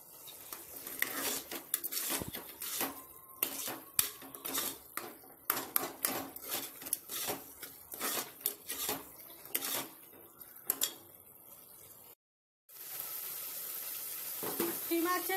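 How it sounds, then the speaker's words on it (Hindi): Minced meat and onion fry in a pan for keema aloo, with a soft sizzle under busy metallic scraping and clinking of a spoon stirring against the pan. A voice talks over it. "खीमे को अच्छे से भून लेंगे और प्याज को भी।"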